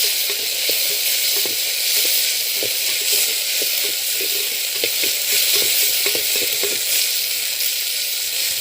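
Balloon vine leaves sauté in sesame oil in a pan, giving a steady bright sizzle with small pops and occasional stirring scrapes, close and continuous, with no voices.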